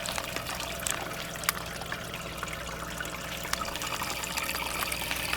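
Water trickles steadily from the drain plug of a bait tank, a close, continuous light splashing and dribbling with no talk.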